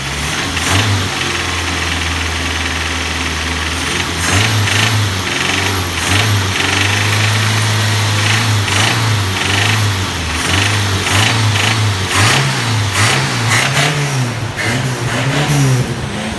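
A Tofaş car engine with a spun bearing revs and idles up close, loud and rough, with a heavy rhythmic knocking running through the rising and falling revs.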